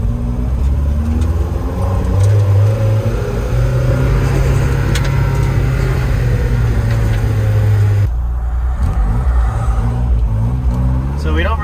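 A Mazda Miata M2 engine revs with a sharp throttle response, giving a steady, close drone with rising surges heard from inside the car, while voices are faintly present.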